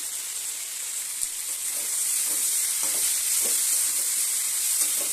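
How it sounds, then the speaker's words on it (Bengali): Ginger and turmeric fry in a pan with a soft, continuous hiss, broken by a few light scrapes and clicks of stirring. The sound is close and there is no talk. "ভালো করে ভাজা হয়ে গেছে"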